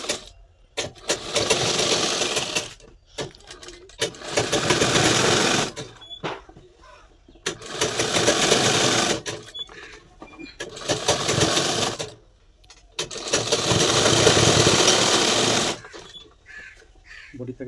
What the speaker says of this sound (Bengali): এখন সেলাই মারবো।